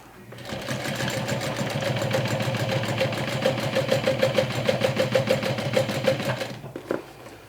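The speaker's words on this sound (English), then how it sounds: "I'm going to top stitch it like this." A sewing machine top stitching through a thick layered strap with gray thread, running in a fast even mechanical rattle for several seconds, steady and close, then stopping abruptly.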